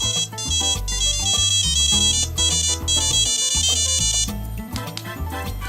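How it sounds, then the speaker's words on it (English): The Knight Rider theme plays as a ringtone from a mobile phone speaker, a loud electronic melody with a pulsing synth bass line and bright repeating high notes, heard alone without talk. "This is the Knight Rider ringtone."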